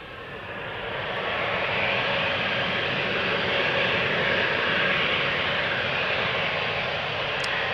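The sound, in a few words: Embraer 190 jet taking off from Schiphol to Bergen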